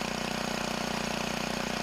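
A motor mower engine converted into a mine winch with a cable and clutch runs at a steady idle, a close, continuous chugging drone with a fast, even pulse.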